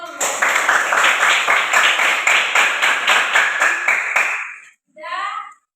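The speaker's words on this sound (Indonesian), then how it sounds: "Ya, tepuk tangan dulu." A classroom group claps together for about four seconds in quick, rhythmic, fairly loud strokes, then stops abruptly; a brief voice follows after a short pause.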